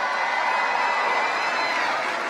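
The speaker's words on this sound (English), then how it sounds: "Let's give them a round of applause." Steady crowd applause and cheering fill a campaign rally for former President Obama in the North Division gym, a dense, continuous roar of clapping with no pauses.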